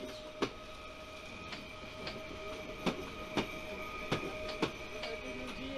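A Pesa Elf passenger train runs near Częstochowa with a steady tonal hum and a rolling rumble, punctuated by sharp, irregular clicks of wheels over rail joints.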